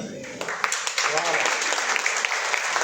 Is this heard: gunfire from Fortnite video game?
no